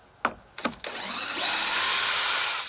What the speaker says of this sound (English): We're going to see if I can unscrew these screws and make it easier.